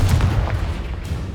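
A short, heavy blast from the Confringo explosion spell in Hogwarts Legacy booms loudly and close, with a deep low rumble lasting about a second.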